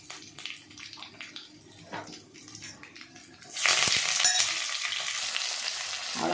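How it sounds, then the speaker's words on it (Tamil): Dried chillies and curry leaves are tempered in hot oil and poured into a fish curry, with a soft crackle at first that gives way to a loud, steady sizzle and hiss. "அதை போட்டுருவோம். அவ்வளோதான், தாளிச்சு ஊற்றிடலாம் குழம்புல."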